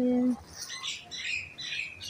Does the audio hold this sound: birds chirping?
yes